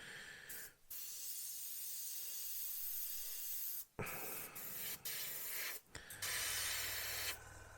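A Mobius premium 0.3 airbrush from Galeri sprays paint onto a 1/32 Revell He111 model in short hissing bursts of steady air, separated by brief pauses, close and fairly quiet.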